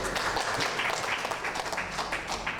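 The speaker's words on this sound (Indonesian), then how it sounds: "Boleh tepuk tangan." Applause at a professional graduation ceremony for STT IKAT in 2023 fills the room as fairly quiet, continuous clapping from a gathered audience, slightly uneven in loudness throughout.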